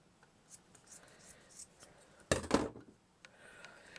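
Scissors cut through craft material while a Christmas Santa gnome is being made, a single loud, close snipping crunch that lasts about half a second. Before and after it come soft scratching and handling sounds from the work.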